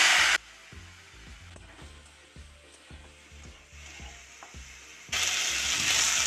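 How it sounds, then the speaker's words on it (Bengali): Prawns sizzle in hot mustard oil, a loud bright hiss opening and closing the stretch, with quieter frying and rhythmic low knocks of stirring in between. "এবার আমি ওই তেলের মধ্যে চিংড়ি মাছগুলো দিয়ে দেবো।"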